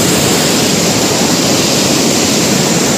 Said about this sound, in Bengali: মানে এত ঝর্ণার এত আওয়াজ